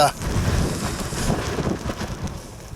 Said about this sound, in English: The wind is hitting it side on, so not ideal.